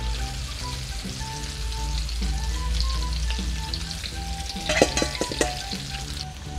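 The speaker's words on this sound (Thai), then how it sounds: "พอเอาตัวกระทะร้อนให้เราใส่ไข่ลงไป" Beaten eggs with crab meat, seasoning and a little water fry in a hot pan for a crab omelette, giving a loud continuous sizzle and crackle with a few brief stirring scrapes near the middle.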